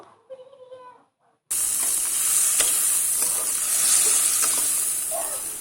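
Spices and aromatics dropped into hot mustard oil for a dried fish curry with greens, bursting into a sudden loud sizzle after a short spoken moment, then a sustained close hiss with occasional stirring clicks.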